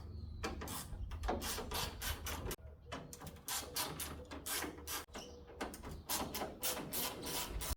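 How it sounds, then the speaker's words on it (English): Rattling, ratcheting bursts of a tool backing out T25 Torx screws from the kidney grilles of a 2006 BMW E90 330i, loud and close in several separate runs with brief pauses, no speech. "Remove 1, 2, 3 T25 torque screws."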